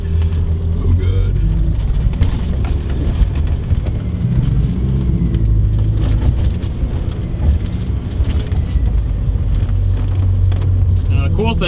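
A lifted Mazda Miata with mud flaps and an off-road bumper drives through mud, its engine a loud, constant close drone with low rumble throughout, heard from inside the car along with wind buffeting.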